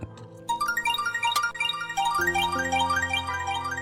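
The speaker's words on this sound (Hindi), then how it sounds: "दुआ की कॉल आ रही है, मैं एक कॉल लेकर आता हूँ।" Melodic phone ringtone for an incoming call, a repeating pattern of bright tones that begins softly and then grows fuller and louder, carrying on steadily with no one talking over it.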